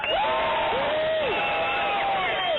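A large crowd cheers and applauds in a continuous, loud, roaring wash of sound at a political gathering, with a voice calling out above the noise.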